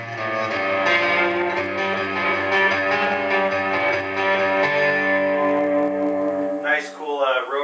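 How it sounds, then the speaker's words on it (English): A sustained guitar chord through a Studio 7 S760 tube amplifier head swirls and wobbles with a rotary speaker effect, its tone pulsing steadily, then a brief sweeping squeal at the end. "Nice, cool rotary speaker sound there."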